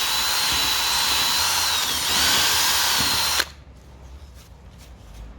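A power drill whirs at a high, steady pitch for a few seconds drilling a 4.5mm hole for stainless steel self-tapping screws, then cuts off abruptly, leaving quiet faint background noise.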